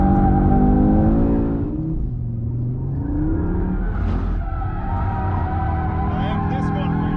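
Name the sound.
2022 Audi RS3 oversteering with tire squeal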